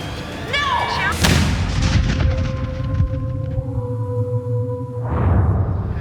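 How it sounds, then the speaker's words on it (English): Gunshots in a TV crime reenactment: a loud sharp shot cracks out near the start, followed by a lingering ringing tone and another burst toward the end, with a raised voice just before. "So you and Reginald heard gunshots."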